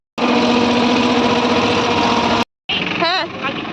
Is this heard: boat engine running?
yes